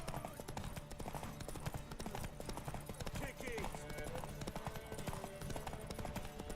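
Rhythmic hoofbeats of horses galloping in The Witcher 3: Wild Hunt run steadily under music and a shouted voice, busy and fairly loud.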